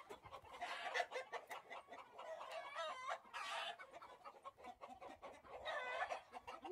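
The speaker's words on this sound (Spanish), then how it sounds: "Andamos ahora sí que alborotando el gallinero." Chickens in a henhouse in the Chihuahua sierra cluck and squawk in agitated bursts, several birds calling close by, with one rising crow-like call midway.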